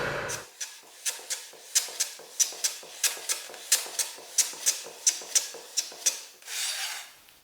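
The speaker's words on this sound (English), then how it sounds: "fit and finish using my low angle jack and shooting board" Low angle jack plane shaving the edges of solid cherry edging on a shooting board, a run of about fifteen rhythmic, evenly spaced rasping strokes, close and fairly loud, with no talking.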